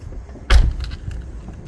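A Mercedes-Benz car is switched off and its key fob pulled out: a single soft thump close by, followed by faint clicks and a light jingle of keys.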